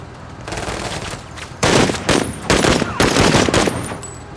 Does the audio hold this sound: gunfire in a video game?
yes